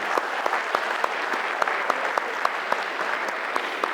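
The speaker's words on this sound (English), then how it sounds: "That deserves a clap." An audience at a school talk applauds steadily, a moderately loud round of clapping with distinct individual claps standing out.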